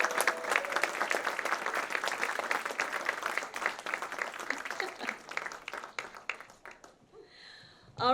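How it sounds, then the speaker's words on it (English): An audience at a film festival awards ceremony claps steadily for several seconds, the ovation holding moderately loud before thinning out near the end. "one more round of applause"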